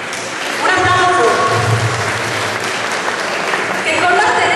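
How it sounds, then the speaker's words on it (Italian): A crowd at an applied arts and crafts event in Messina, Italy applauds steadily, a dense wash of clapping that holds at an even level throughout. "Un applauso."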